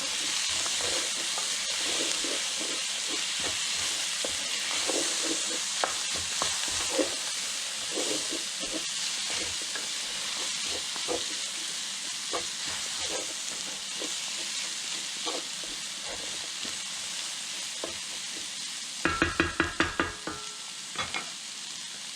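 Spiced picadillo de vainica, green beans with coriander, sizzles and hisses steadily in a pan while a spoon stirs it with soft, irregular scraping clicks. Near the end comes a brief burst of sharper scrapes.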